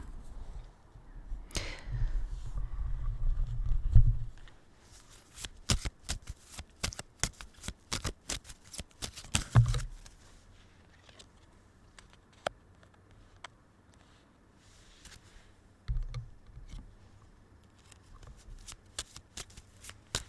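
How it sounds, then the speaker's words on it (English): Tarot or Kipper cards being shuffled by hand, a rapid series of crisp riffling flicks and slaps in bursts close to the microphone, with pauses and a soft low hum between them and no talking. "we're going to do some shuffling"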